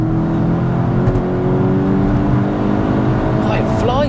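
A 500 bhp Skoda Octavia vRS accelerates hard with wheel hop, its engine note climbing loudly and in pitch from inside the car, while people talk over it.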